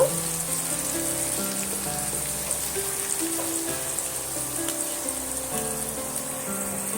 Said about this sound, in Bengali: এবার আমি এইভাবে অপর পিঠটা উল্টে দিয়ে আমি ভাজা করে নেব